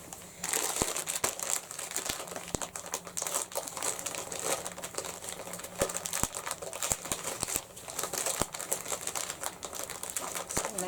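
Crinkly plastic yarn packaging rustles and crackles continuously at close range, dense crumpling punctuated by sharp snips and clicks as it is cut open.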